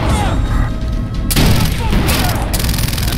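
Dense, loud gunfire from the video game Far Cry 3 rattles in rapid overlapping bursts and booming impacts, continuous over a busy combat mix throughout.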